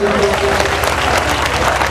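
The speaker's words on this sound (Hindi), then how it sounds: "उनके लिए एक बार ताली बजा दीजिए" Dense, steady applause from a crowd at a Maa Bhagwati jagran devotional night, clapping for the performing band, loud and continuous throughout.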